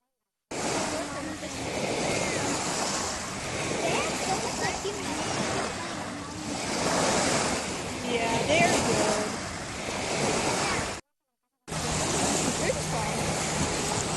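Ocean surf rolls and crashes continuously while someone surfs in the sea, with strong wind buffeting the microphone; the roar swells and eases in waves, loud and close, breaking off briefly near the end.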